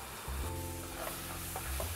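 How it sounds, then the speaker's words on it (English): Turmeric powder and blended ingredients tipped into a pan of hot chili paste for chili crab set off a loud, close sizzle that swells as the wet mixture hits the oil. "I'm gonna add some turmeric powder and the blended ingredients."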